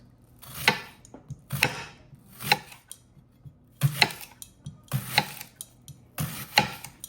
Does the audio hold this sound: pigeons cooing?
no